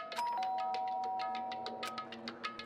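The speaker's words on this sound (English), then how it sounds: "Byakuya stood in front of her door, not making a sound, and pressed the doorbell." A doorbell chimes inside the video game Danganronpa: Trigger Happy Havoc, a clear electronic ding-dong tone with light rhythmic ticking around it, played with no talk over it.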